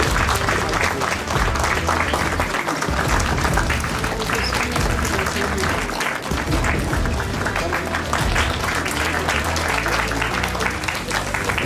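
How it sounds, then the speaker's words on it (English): Audience applause for an award winner at an honoring ceremony, loud and continuous clapping filling the hall for nearly twelve seconds, with a possible faint voice now and then beneath it. "A big round of applause for this achievement."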